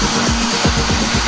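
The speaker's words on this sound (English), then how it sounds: "Cut a dovetail socket by simply allowing the bearing on the router bit to follow the dovetail" A router fitted with a bearing-guided dovetail bit cuts a dovetail socket in wood along a guide, giving a loud, steady whine with a rapid rhythmic rasping pulse, close and alone.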